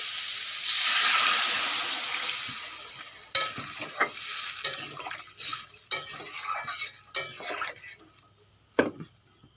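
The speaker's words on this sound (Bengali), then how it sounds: "আলুগুলো আমি ভেজে নিয়েছি এখন দিয়ে দেবো জল" Water poured onto potatoes frying in a pan with chilli powder gives a loud initial sizzling rush that fades, followed by a series of sharp scraping and clinking stirring strokes of a spoon against the pan.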